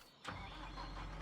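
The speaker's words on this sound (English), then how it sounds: "I think I need to turn this tractor on again" Tractor engine starting in the farming game Farming Simulator 25: a quick crank catches and settles into a steady, rumbling idle that continues without pause, with no talking.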